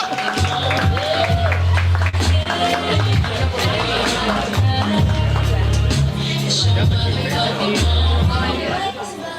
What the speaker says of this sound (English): Y'all keep clapping all the way to the stage.